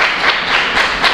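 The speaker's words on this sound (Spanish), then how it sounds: "Denle el aplauso por eso al Señor." A church congregation clapping, a close, loud burst of many hands with soft rhythmic swells, brief and without speech.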